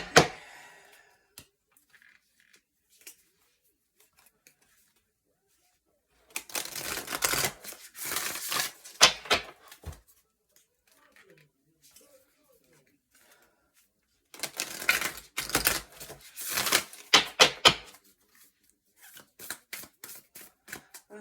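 Two bursts of rapid tarot card shuffling, crisp riffling and flicking, separated by quiet pauses with faint background sounds.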